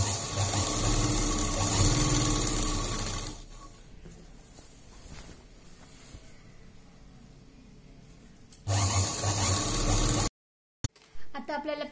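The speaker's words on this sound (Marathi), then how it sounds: "पाव इंचावरती पूर्ण गोल टिप मारून घ्यायची याला." A sewing machine stitches a folded cloth hem on Bermuda half pants, running in a steady loud whir for about three seconds and again near the end, with quieter pauses between bursts.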